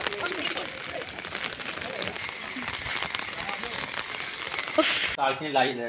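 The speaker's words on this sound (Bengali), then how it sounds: "বৃষ্টি আর বৃষ্টি।" Steady rain pours down during a road trip to Bankura, a dense broadband hiss that fills the whole stretch with a brief louder burst near the end, and voices may sound faintly beneath it.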